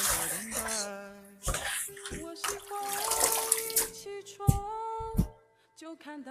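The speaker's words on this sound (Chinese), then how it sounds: "再把它洗一洗。" Tap water runs and splashes over enoki mushrooms and bok choy being washed in a kitchen sink, a close, uneven rush that gurgles and stops several times, with brief knocks and handling sounds.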